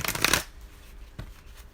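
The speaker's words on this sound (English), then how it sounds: "One more shuffle." A deck of tarot cards is riffled in one quick, close shuffle lasting under half a second, followed by quiet handling.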